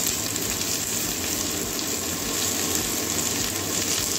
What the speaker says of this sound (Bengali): আলু ডিমটা একটু ভেজে নেব।